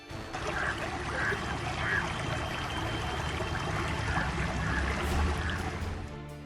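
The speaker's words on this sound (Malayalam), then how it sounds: "പ്രളയത്തിൽ ഒഴുകി വന്ന ഉരുളൻ കല്ലുകൾക്കിടയിൽ ജീവജലത്തിന്റെ നീരുറവ" A thin stream trickles between flood-deposited boulders in the shrunken Manimala river near Kottayam: a continuous, even burbling flow with faint splashy accents and no speech.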